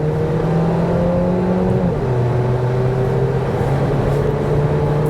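A Kia Niro with a dual-clutch transmission and 104,000 miles accelerates at full throttle, its engine note steady and loud, then dropping in pitch with a gear shift near two seconds before climbing again.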